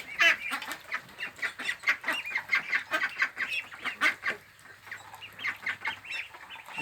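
Young Yi Liang ducks, just over a month old, raised as breeding stock, call continuously in a dense overlapping chorus of short, bright peeps and quacks, close and steady, with no voices.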